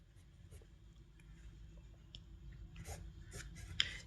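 A pen writing out an equation for a maths solution: faint, close scratchy strokes in short irregular bursts, getting a little busier toward the end.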